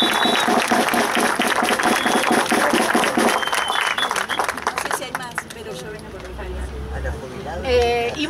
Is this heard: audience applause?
yes